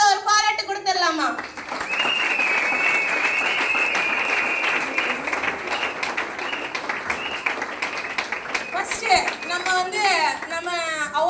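Sustained applause from a school audience at an August 15 Independence Day celebration, many hands clapping steadily for about eight seconds, with a voice speaking before and after and children's chatter mixed in.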